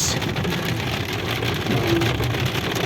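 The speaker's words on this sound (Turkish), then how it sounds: "dolu mu yağıyor, yağmur mu yağıyor, ikisi bir mi yağıyor hiç belli değil" Steady, dense downpour of heavy rain and hail drumming on a car roof, a continuous loud wash with no gaps.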